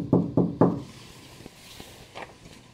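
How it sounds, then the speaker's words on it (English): Three firm knocks on a door or wall in an old desert opera house and hotel, evenly spaced and close, followed by faint scattered taps and creaks in a quiet room. "Let's see if they knock. Knock back."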